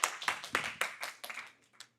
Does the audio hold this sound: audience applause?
yes